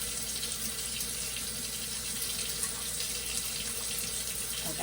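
Water runs steadily from a tap into a sink while hands are rinsed after washing, a continuous close splashing rush with no talk.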